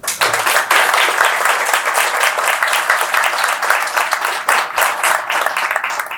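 Loud, sustained applause from a crowd at an institutional launch ceremony, dense clapping that fills the room without a break.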